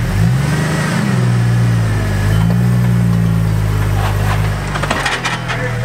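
Jeep TJ engine rumbling and revving loudly and close up on an off-road rock trail in Moab, a steady low drone with rising and falling pitch and scattered scrapes and clinks toward the end.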